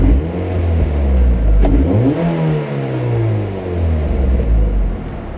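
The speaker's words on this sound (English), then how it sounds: "Even giving this thing free revs sounds nice in here." Mazda Miata NC fitted with a Goodwin Super Q exhaust, heard close and loud as the engine revs up freely and the revs fall back, with a rising then falling engine note and a low rumble.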